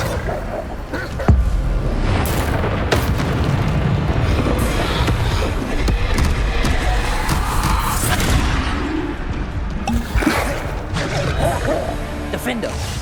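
Repeated Bombarda spell explosions from Hogwarts Legacy combat, loud booms and crashing impacts over a dense, continuous battle din with scattered sharp hits throughout.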